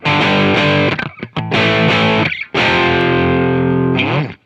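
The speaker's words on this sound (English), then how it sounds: "this is just like the default sound that we always have, like a Marshall sound" Default Marshall-style electric guitar amp tone in AmpliTube 5: loud, distorted chords and sustained notes in several phrases with brief gaps, ending on a long ringing chord with a slide.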